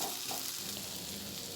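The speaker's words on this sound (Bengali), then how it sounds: "মশলার সাথে নারকেলটা মিনিট 5 ভেজে নিয়ে দিয়ে দেব ভেজে রাখা আলুগুলো" Coconut frying with spices and potatoes in a pan, a steady, close sizzle with soft stirring that holds at an even level throughout, with no voices.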